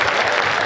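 Audience applause at a Hindi comedy poetry gathering (hasya kavi sammelan), a brief, dense burst of steady clapping from the crowd with no voices over it.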